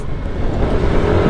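A Yamaha NMAX V2 ABS scooter with worn tyres and a high-revving engine runs steadily up close, a continuous low motor drone that stays loud and even with no voices.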